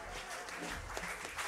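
Congregation applauding together inside a church during worship, a steady soft wash of many hands clapping at moderate distance, with faint voices mixed in.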